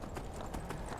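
Horse hooves clip-clop in a video game, a close, quick and steady run of hoofbeats across the whole short moment, played alone without talk.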